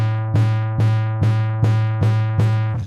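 A bodhran frame drum fed through a distortion effect, struck about six times in a steady rhythm, each hit a loud, buzzing, harmonically rich crunch that holds briefly before the next stroke.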